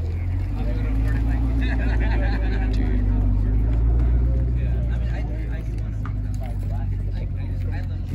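A supercharged car at a Scottsdale cars-and-coffee meet gives off a steady, loud low engine rumble that holds for several seconds, with surrounding crowd noise.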